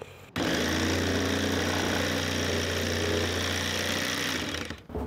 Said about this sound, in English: all I'm going to do is drill a hole to start off the jigsaw